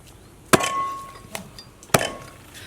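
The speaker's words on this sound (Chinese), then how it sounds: "现在剁一下。" A cleaver chops through cleaned carp on a cutting board with two loud, sharp thwacks about a second and a half apart. A lighter knock falls between them, and each strike rings briefly.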